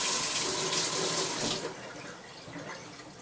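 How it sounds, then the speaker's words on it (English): A pot of water boils vigorously on a kitchen stove, a dense bubbling roar that drops to a quieter simmer halfway through, heard alone without talk. "now my water's boiling"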